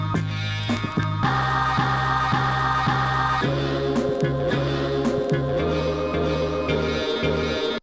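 A chopped-up sample track played back on an Akai MPC Key 37, with a steady looping pattern of sustained tonal chords and rhythmic pulses, loud and continuous with no voice over it.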